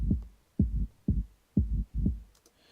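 A very basic warehouse-style techno pattern: five heavy, booming low kick-like thumps at an even pulse with short tonal synth tails, ending in a faint high hiss.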